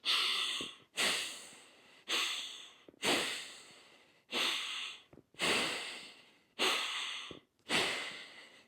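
Slow, controlled breaths drawn through the nose during a light 26-pound kettlebell press, eight even, audible inhale-exhale cycles close to the microphone with short pauses between them and no talking.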